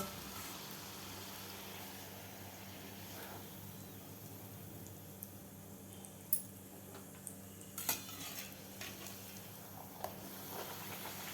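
Puris deep-frying in hot oil for a Maharashtrian aamras puri meal give a faint, steady sizzling hiss, broken by a few sharp metallic clinks of utensils near the middle.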